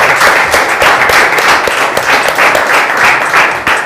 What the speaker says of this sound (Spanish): Y un aplauso para Eric, por favor.